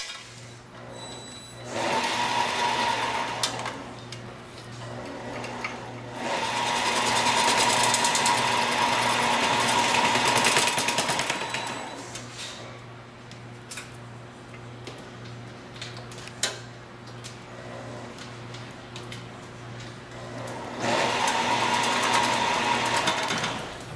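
An automatic machine tapes an automotive wiring harness with a fast rhythmic ticking whir that comes in loud bursts of several seconds, easing to a quieter mechanical hum between runs. No one speaks.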